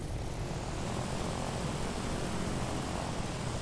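Focke-Wulf Fw 190 A-8 piston aircraft engine in the DCS flight simulator, warming up with revs held above 1,000 rpm, a steady, loud propeller drone that fills the whole clip with no talk.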